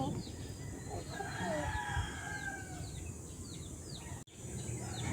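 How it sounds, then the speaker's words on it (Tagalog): Roosters crow repeatedly in the early morning in the province, several calls near and far over a bed of chirping birds and insects, with a brief dropout near the end. "yung tunog ng mga insekto sa umaga, ng mga ibon, at saka ng mga manok."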